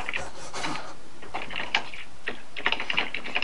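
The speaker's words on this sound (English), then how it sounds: "I have a bad feeling about him typing." Someone types on a computer keyboard in quick, uneven bursts of soft key clicks, close by and heard alone with no talking.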